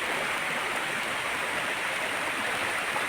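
Semaba waterfall on a river rapid in a forest, a steady broadband roar of rushing water, constant and fairly loud throughout with no voices.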